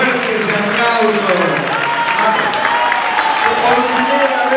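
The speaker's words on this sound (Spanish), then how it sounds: "fuerte, fuerte ese aplauso." Crowd applause for children performing for an audience for the first time, loud and steady throughout, with voices and cheering mixed into the clapping.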